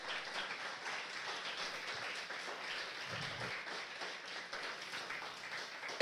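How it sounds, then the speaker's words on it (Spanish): A church congregation applauding during a sermon, a soft, continuous patter of many hands heard from some distance, fairly faint throughout. "Alguien puede darle un aplauso al Rey de Reyes."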